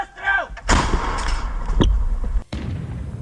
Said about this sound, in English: Russian artillery receives the coordinates of Ukrainian armored vehicles and takes a shot.